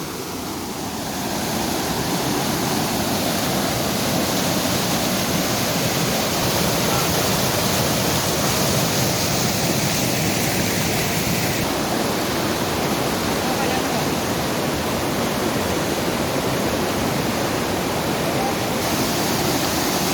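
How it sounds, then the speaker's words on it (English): A waterfall in Kumrat valley, Pakistan, roars as a steady, loud, broadband rush of falling water that continues without a break throughout. "you can see that a very nice waterfall"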